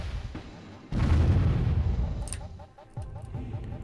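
Artillery fire from the Warzone 2100 strategy game hits a structure under attack, with a heavy booming blast followed by further bursts and pops, in a moderately loud game soundscape.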